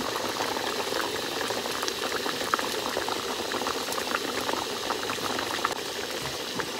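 Lentil vadas are dropped one by one into curry water at a steady, vigorous boil, giving a dense, even bubbling and hissing that stays close and constant throughout with no talk.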